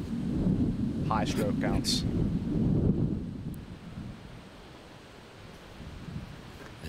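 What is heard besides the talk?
wind on a disc golf course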